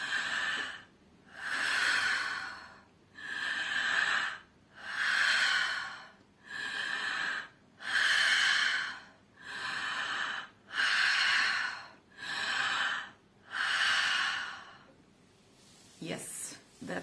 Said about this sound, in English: Deep inhales, deep exhales.